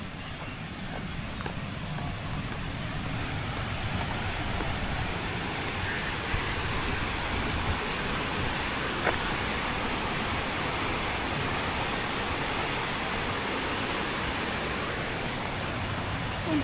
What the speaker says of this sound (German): Aber erstmal gucken wir uns jetzt hier diesen wundervollen Wasserfall nochmal an.